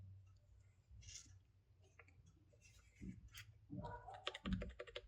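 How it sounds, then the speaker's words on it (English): Typing on a Redragon Shiva K512 membrane gaming keyboard gives soft, quiet clicks and taps in an irregular run, growing busier toward the end. "This is how it sounds. This is not a mechanical key but a membrane key."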